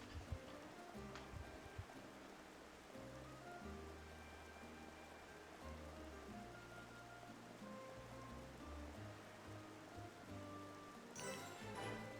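Rain falls steadily in Xenoblade Chronicles Definitive Edition, a soft continuous hiss under quiet game ambience, with no voices.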